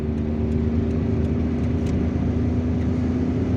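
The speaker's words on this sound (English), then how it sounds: "we're going to continue driving along this road until we reach the area of Chevalier" A car drives along a road in Algiers, its steady engine hum and road rumble continuous and fairly loud throughout, with no voices.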